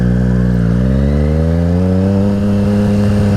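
A motorcycle engine revs up and climbs steadily in pitch, loud and close, as the bike accelerates to about 20 miles an hour, with no talking over it.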